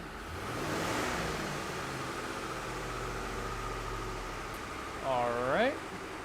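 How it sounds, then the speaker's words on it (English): A car engine hums steadily and swells briefly as it is revved in a workshop during lab scope testing, then settles back to a low drone while someone speaks briefly near the end. "Why don't you go ahead and rev it up, Mark?"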